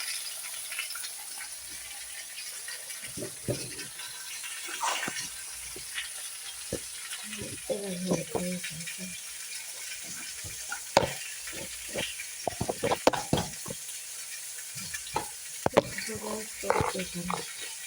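Garlic, whole chilies and tomato sizzle in a hot pan, a steady frying hiss with intermittent crackles and stirring clatter, close up, while someone talks over it.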